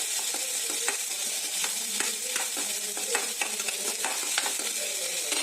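Chopped onions sautéing in hot oil in a pan for Tamil-style buttermilk kuzhambu, giving a steady close sizzle with scraping and stirring clicks throughout.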